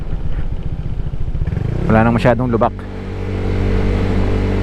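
A motorcycle rides a mountain road near Mt. Banahaw, its engine a steady close drone with a brief louder rev in the middle, while someone talks over it.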